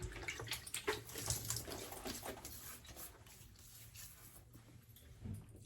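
Water running and splashing at a sink while the face is wetted before a shave, a steady close wash with louder splashy bursts early on that settle into a softer flow.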